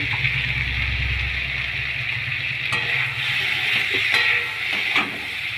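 Small Ganges river fish (mourola) fry with salt, turmeric and coriander powder in a pan, giving a steady close hiss of oil with a few soft stirring scrapes and taps.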